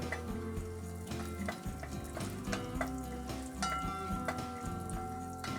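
Nuts and raisins fry in a pan for banana payasam, a continuous moderate sizzle with faint clinks, heard under background music.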